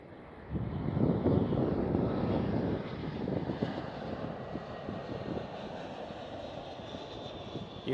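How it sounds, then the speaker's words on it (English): A British Airways airliner landing at Amsterdam Schiphol gives a broad, steady engine roar that swells quickly, holds, then slowly tapers off, moderately loud and some distance away. "this British Airways was a little bit shaky. But touchdown, very nice and steady"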